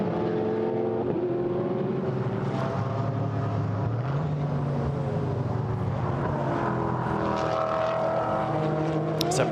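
A Maserati GT4 race car engine charges out of a corner at Paul Ricard during a GT4 European Series race, a loud sustained roar with climbing and shifting tones under continuous crowd and track noise.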